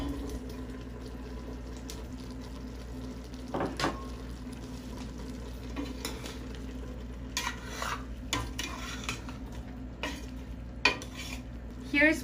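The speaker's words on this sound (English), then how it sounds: "So right now I'm gonna go ahead and add these chickpeas." Chickpeas being stirred into a pot of frying Uzbek plov, with a steady oily sizzle under scattered scraping and clinking of the spoon against the pan, close and moderately loud.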